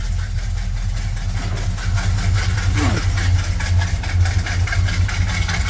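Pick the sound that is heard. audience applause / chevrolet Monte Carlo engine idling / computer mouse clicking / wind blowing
chevrolet Monte Carlo engine idling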